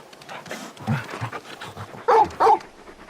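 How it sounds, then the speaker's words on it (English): Torgal, the large dog companion in Final Fantasy XVI, panting in quick, close breaths, broken by two short, louder yelps near the end. "You're just a big puppy, aren't you? A very big puppy."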